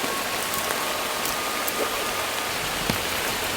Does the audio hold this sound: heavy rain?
yes